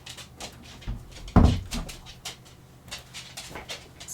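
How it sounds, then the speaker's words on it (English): Small dog nails clicking on a hard indoor floor, scattered light taps spread across the moment with a louder thump near the middle, close by in a quiet room. "tip-tap, that's Chappie and Aoife's nails on the hard floor in here"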